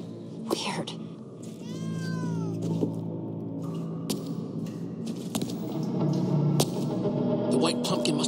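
Cats meowing in the Minecraft Story Mode video game, several drawn-out, echoing mews over a low humming game soundtrack, with a few sharp clicks between them.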